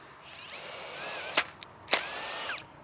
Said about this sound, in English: just drill a hole straight through and back the tech screw out.